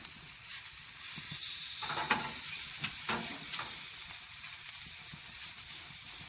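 Chicken searing on a Qwik-Char grill, a continuous close hiss and crackle of fat sizzling with a few louder pops, steady throughout and free of talk.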